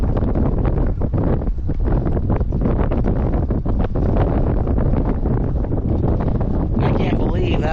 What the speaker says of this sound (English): I can't believe that wind is straight out of the east now.